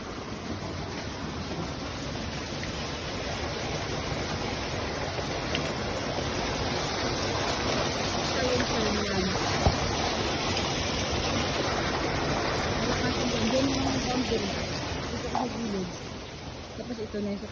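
Strong water rushes through a stream as a steady, broad roar that continues unbroken and fairly loud, with a few faint voices beneath it.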